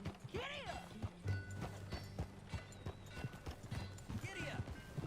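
Horse hooves clip-clop steadily while riding in Red Dead Redemption 2, with a horse whinnying and characters talking over the rhythmic hoofbeats.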